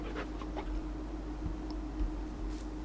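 A dog panting in Farming Simulator 19, a soft steady rhythmic breathing at moderate distance over a constant low hum of farm background ambience, with no talking.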